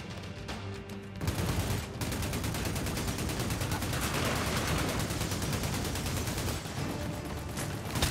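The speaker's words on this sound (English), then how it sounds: "I'm gonna get on the machine gun then." Sustained machine gun fire in Army of Two: The Devil's Cartel, a rapid, continuous stream of shots running for several seconds after a short lull, loud and close with a dense rattling rhythm.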